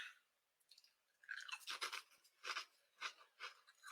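Cajun dill Gator-Tators potato chips crunch close to the mouth in a handful of irregular, crisp bites after a quiet start, each chew a dry crackling burst.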